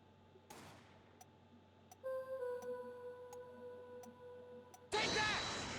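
Recorded gunshots from the Apollo Justice video game: two sharp, loud bursts, one near the start and one near the end, separated by faint ticking and sustained musical tones.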